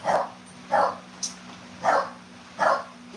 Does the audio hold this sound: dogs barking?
yes